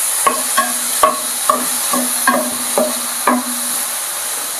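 Shrimp sizzle in a hot frying pan for spaghetti aglio olio while a spatula scrapes and stirs in a steady rhythm, with roughly ten sharp strokes ringing clearly over the constant hiss of frying.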